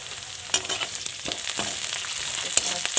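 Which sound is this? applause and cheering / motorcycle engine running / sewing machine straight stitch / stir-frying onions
stir-frying onions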